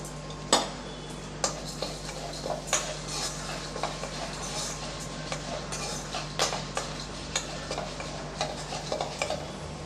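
Sago frying in ghee in a pan for semiya payasam, a low sizzle under frequent clicks and scrapes of a metal spoon stirring against the pan, close and without talk.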